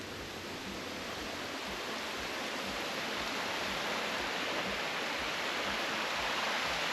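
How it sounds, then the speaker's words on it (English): Steady broadband rush of running water from a stream right beside a trail along Venable Lake at Stone Mountain, Georgia, continuous and even throughout with no speech. "enjoy the view while listening to the running water right beside you"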